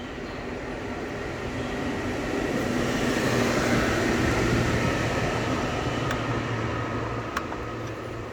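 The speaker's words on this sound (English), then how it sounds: "That's the compressor running." Iceco 60 VL portable freezer/fridge compressor running on battery power from a solar setup, a steady whirring hum heard up close, with a few faint clicks near the end.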